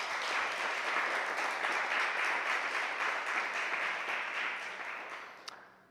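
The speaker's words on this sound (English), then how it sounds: "I would just like to ask for a round of applause for these 4 individuals for the great work that they do." Applause from an audience at a school board meeting, a steady dense patter of many hands that holds for several seconds, then gradually thins and fades out.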